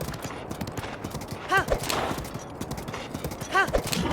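Horse hooves clop in a rhythmic gallop during riding in The Legend of Zelda: Breath of the Wild, with a couple of louder accented hoof hits over a busy game soundscape and someone speaking.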